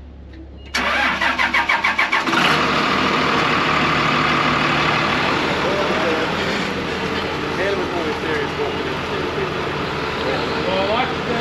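A heavy tractor engine cranks with rapid chugging for a couple of seconds, then catches and settles into a loud, steady rumbling idle close by, with voices faintly under it.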